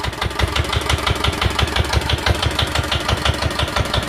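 Yanmar diesel engine running at idle, a fast, even thumping pulse with a rough mechanical clatter, loud and close, steady the whole time without voices.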